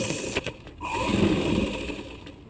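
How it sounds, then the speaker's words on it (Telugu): A sewing machine stitches cloth for a baby umbrella frock, giving a close, continuous whirring hum after a few short clicks at the start, with no talking. "ఈ క్లాత్ని అయితే తీసుకొని ఇక్కడ నుంచి పెట్టుకొని ఇక్కడ స్టార్ట్ చేసుకొని ఒక కుట్టు వేయాలి."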